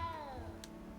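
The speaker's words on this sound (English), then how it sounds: "You don't need to be frightened, little cat." A small cat in the video game Hogwarts Legacy gives a single falling meow, fairly clear over a low background murmur, with no talk during it.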